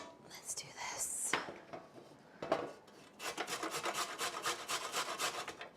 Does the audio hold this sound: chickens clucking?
no